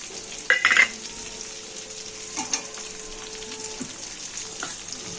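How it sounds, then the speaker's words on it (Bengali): Chopped onions hit a hot pan for a chicken curry with potatoes and are stirred, giving a sharp loud burst of sizzling at first, then a steady close frying hiss with occasional scraping stirs. "এবারে আমি এই পেঁয়াজগুলো এতে দিয়ে দিলাম।"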